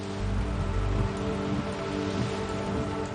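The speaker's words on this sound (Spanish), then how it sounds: "Lluvias torrenciales caen sobre la ciudad más grande de Brasil." Torrential winter rain pours down over São Paulo in a dense, steady hiss that stays loud and continuous throughout.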